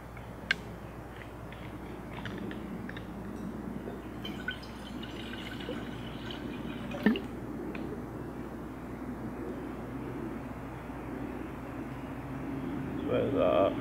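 Water runs into a measuring container marked at 750 ml, filling toward 400 ml at a pine-forest camp in the Peak District; a steady, close, low pour goes on throughout, with a voice speaking over it.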